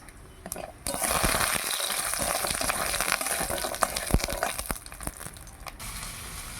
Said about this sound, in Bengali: কড়াই আবার তেল দিয়ে দিলাম প্রথমে বড়িগুলো ভেজে নেব লাল লাল করে বড়িগুলো ভেজে নিচ্ছি